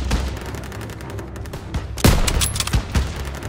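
Dense battlefield gunfire in the WWII shooter Call of Duty WWII: continuous rapid rifle and machine-gun shots, loud and close, with a heavier blast hitting about midway.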